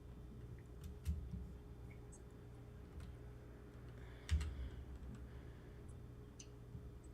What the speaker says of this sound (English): just keyboard typing